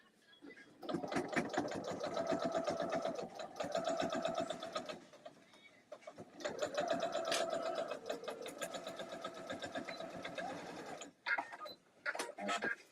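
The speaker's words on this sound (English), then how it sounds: "I'm just listening to some music and doing some sewing." A home sewing machine stitches in rapid mechanical bursts, whirring and ticking for several seconds at a time, pausing briefly, then running again before a few short stop-start taps at the end.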